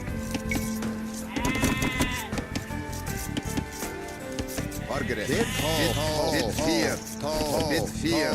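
Sheep in Age of Empires II bleat repeatedly over a dense backdrop of game music and ambient noise, with the wavering calls clustering toward the end of the stretch.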